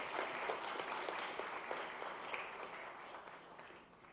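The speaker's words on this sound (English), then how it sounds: "Please give them a round of applause." Audience applause at a government event in Gandhinagar with company representatives, a soft, steady patter of many hands, heard from a distance and fading slightly toward the end.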